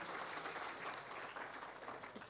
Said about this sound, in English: a big round of applause for Ajay, please